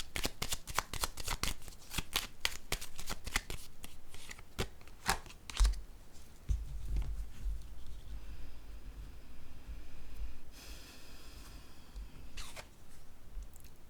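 A tarot card is handled and laid down on a letter: a quick run of crisp card flicks and riffles, then a soft thump and lighter papery rustles. No voices are heard.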